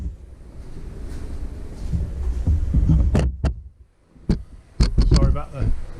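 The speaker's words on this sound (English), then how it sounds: "Sorry about the clunking noises from the camera stand." Camera stand clunking in a workshop during a Triumph Stag gearbox strip-down, several sharp knocks and clunks, near and fairly loud, mixed with handling noise and rumble.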